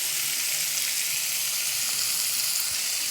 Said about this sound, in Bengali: ভেজে রাখা মাছগুলো এবার দিয়ে দিলাম ভালো করে কষে গেছে